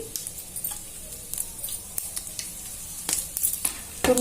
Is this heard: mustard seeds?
yes